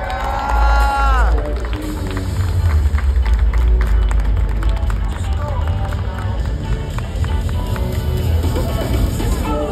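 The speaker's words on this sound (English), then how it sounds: "Put your hands together for Tua Tagovailoa." A crowd cheers and applauds as an NFL quarterback is introduced at a live event, a loud sustained wash of clapping and whoops with an announcer's voice over the start.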